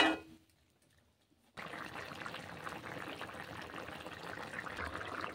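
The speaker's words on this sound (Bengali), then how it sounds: "এই জন্য পরিমাণ অনুযায়ী আমি জলটা দিয়ে দিচ্ছি, দিয়ে একটু নাড়িয়ে দিব" Water is poured into a pot of green pumpkin curry, starting after a brief pause and continuing as a steady splashing stream.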